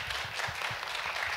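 Brief applause from a church lecture audience in Korea, a soft, steady patter of clapping at a moderate distance, with no talking over it.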